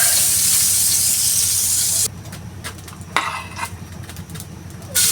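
Butter sizzling in a pan for sautéing at breakfast, a loud, dense hiss for two seconds that then drops to a quieter crackle with scattered pops and scraping.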